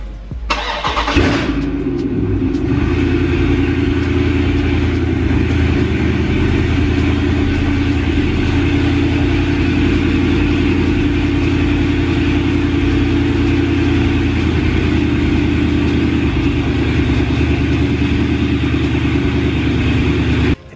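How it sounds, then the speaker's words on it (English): Dodge Charger Scat Pack V8 cold-starts with a sharp crank and loud initial flare, then settles into a steady, rumbling idle that continues evenly, close up and alone. "For me and Christine, I'll give you guys a cold start real quick."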